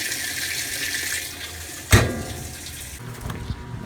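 Water rushes steadily into a Kenmore washing machine tub, a constant splashing flow with a single louder thump partway through.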